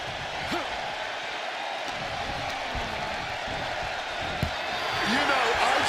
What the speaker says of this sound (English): I can barely hear myself think. This crowd is looking to bring the house down tonight